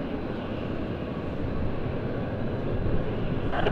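A steady, broad jet engine rumble comes from an ITA Airways Airbus A320 taxiing toward runway 28 for take-off, continuous and fairly close, growing slightly louder toward the end.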